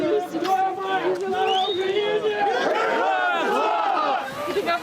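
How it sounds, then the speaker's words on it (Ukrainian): A large crowd of relatives greets freed prisoners of war at an exchange, loud overlapping shouts and cheering voices forming an excited, continuous hubbub close by. "Звільнених зустрічає великий натовп рідних."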